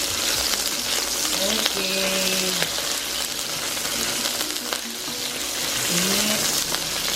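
Fish frying in a hot pan for seafood porridge, a steady loud sizzle and crackle throughout, with brief tonal voice sounds and a short spoken word over it.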